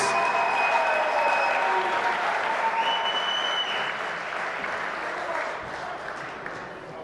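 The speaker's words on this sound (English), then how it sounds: "another round of applause for your 2021 Tiger Seniors" Sustained crowd applause fills a high-school gymnasium at a boys' basketball game, honouring the 2021 Tiger seniors; loud, dense clapping that carries on steadily and slowly eases off without talk over it.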